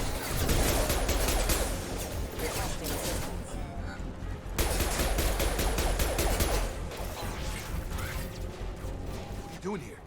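Gunfire and combat mechanisms from Mass Effect 2 Legendary Edition, with dense bursts of shots and clanking impacts in two loud volleys separated by a brief lull. Game voices are mixed in.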